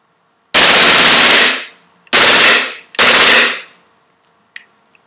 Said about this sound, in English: you can see it's pretty awesome when it's firing automatic